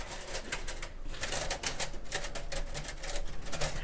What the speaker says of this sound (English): So you can type at the typewriter.